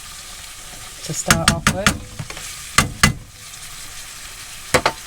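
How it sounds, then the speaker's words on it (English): Ground meat browns in a pan on a motorhome stove, a steady sizzle broken by several sharp scraping stirs, with someone talking over it. "Now, all this meat's browning off"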